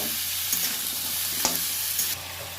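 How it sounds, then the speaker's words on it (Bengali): Tomato with salt and turmeric frying in a pan, a loud, steady close sizzle with a few brief spoon scrapes. "লবণ দিয়ে দিলাম হলুদ দিয়ে দিলাম এটাকে আমি ভেজে নেব"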